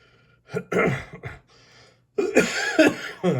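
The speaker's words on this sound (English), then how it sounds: "Pardon me, old man cough." A few harsh, throaty coughs in short bursts, close by, with a brief pause between two clusters; no words spoken.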